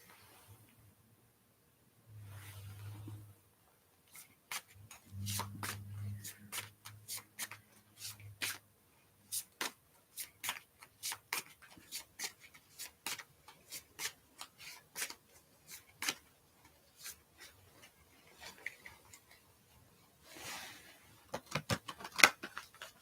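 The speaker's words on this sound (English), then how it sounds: "these have never been shuffled before" Brand-new tarot cards shuffled by hand at close range, giving a long run of crisp, rapid riffling and flicking bursts with brief pauses and a final flurry, with no talking.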